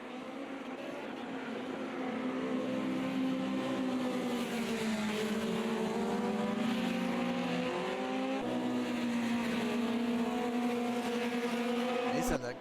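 Historic Formula Junior racing cars roar continuously around the Imola circuit, engine tones rising and falling as they pass, loud and steady throughout.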